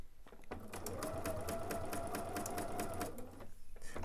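A sewing machine stitches quilt binding with a quarter-inch foot in a fast, even mechanical whir that runs steadily for about two and a half seconds, close and clear, then stops.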